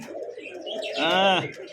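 A pigeon coos close by at a pigeon farm, one short throaty coo rising over low background murmur.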